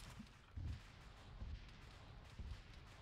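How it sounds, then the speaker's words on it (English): Gunshots ring out in Arma 3 combat: scattered, muffled low thumps from a distance, arriving irregularly about four times over a constant rumbling background. "Shots coming from somewhere."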